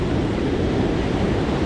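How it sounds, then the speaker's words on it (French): Sea waves and swell break against shoreline rocks in a steady, close, rushing wash of surf, mixed with wind buffeting and with no voices. "les rochers là me brisent des vagues, de la houle, des déferlantes"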